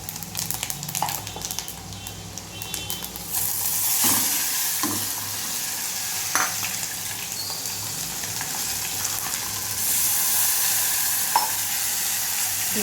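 Vegetables that were already fried are sizzling in a small amount of oil while being stirred, with steady frying hiss and occasional scraping clinks of the spoon against the pan, close and alone.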